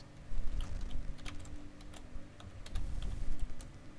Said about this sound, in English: Now we get to do some typing.